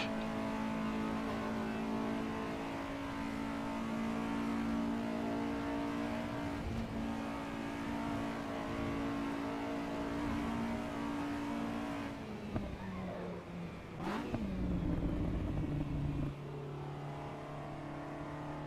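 Ferrari 296 in Assetto Corsa EVO on the Nordschleife: a sustained, steady engine drone holds its pitch, then shifts down near the end with a brief sharp transient, all without talk.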